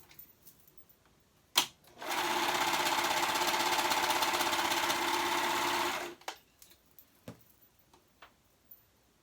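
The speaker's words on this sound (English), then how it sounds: "we're going to serge the shoulder seams together" Serger stitching the shoulder seams of a girls' dress, a close, loud, steady mechanical whir running about four seconds, bracketed by small handling clicks and taps before and after.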